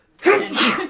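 One sharp, close human sneeze, a sudden burst that trails into a breathy release, during a casual indoor conversation.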